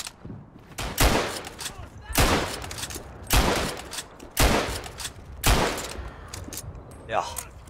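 Gunfire rings out in the World War I shooter game Verdun, with loud bursts of rifle and machine-gun shots repeating roughly every second, rolling together like a fusillade and echoing between volleys.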